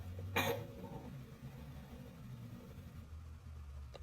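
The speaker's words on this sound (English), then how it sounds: "And she made another coughing sound" A single short cough comes from a recording played back on a device. It is one sharp burst near the start, followed by quiet, muffled background noise.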